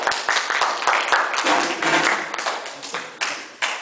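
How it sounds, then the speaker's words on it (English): A small audience claps for the helpers at a magic and illusions show, brisk scattered applause that is fairly close and loud, then thins out toward the end. "let a big round of applause for my helpers"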